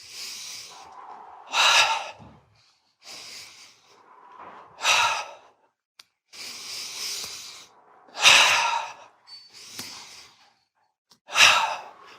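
Deep breathing exercise, slow in-and-out breaths repeated in an even rhythm, each long hissing inhale followed by a stronger, louder exhale, close and clear with no talk.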